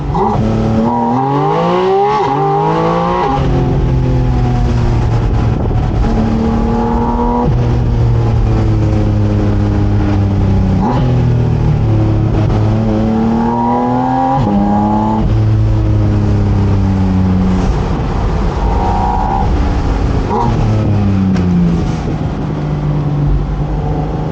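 A Porsche Boxster Spyder RS engine revs hard again and again on a back road, its pitch climbing and dropping through gear changes, loud and close with no talking.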